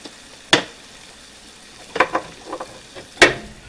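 Seasoned eggs cook in a pan, with a low, quiet sizzle broken by a few sharp crackles and spits at irregular moments. The sound is close by and has no speech over it.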